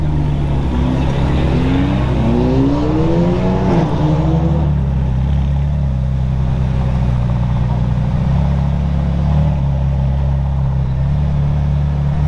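A McLaren Senna supercar revs and pulls away nearby, its engine note rising through stepped gear changes before settling into a steady, loud drone, with no talking over it.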